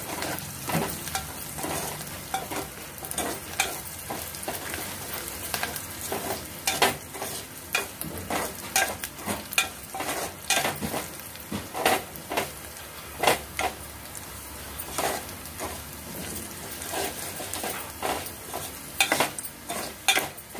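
Spices crackle and sizzle in hot oil for a Telangana-style lentil and tomato tempering, while a spoon scrapes and clanks against the pan in frequent sharp strokes. The frying hiss stays steady and close throughout.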